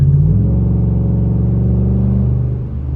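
A Ford F-150 with the 5.0 V8 and an aftermarket tune pulls while driving, a loud, steady low engine drone with rising harmonics heard from inside the cab, with no talk.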